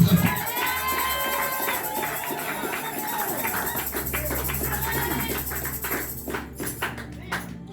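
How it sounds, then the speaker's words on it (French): A church congregation at a worship service cheering and acclaiming Jesus, with a dense, sustained roar of many voices that fills the whole stretch and thins slightly toward the end. "Acclame et célèbre Jésus"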